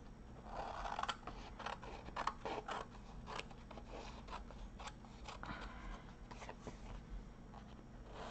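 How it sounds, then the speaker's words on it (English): Scissors snip along the edges of junk journal paper, a series of close, crisp cuts and rustles repeating at an irregular pace with no talking. "I'm going to trim the edges off of this one."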